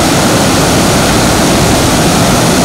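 Seethapalli stream and waterfall near Rampachodavaram pour in a loud, steady, broadband roar, continuous and close, with no voices over it.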